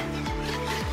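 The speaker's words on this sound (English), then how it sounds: "Stir it properly" Wooden spoon scraping and rubbing around a pot of creamy lettuce soup, a close steady rasping stir with two sweeping strokes, no talk.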